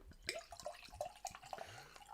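Liquid trickles and drips quietly into a glass, a series of small splashes and gurgles close by.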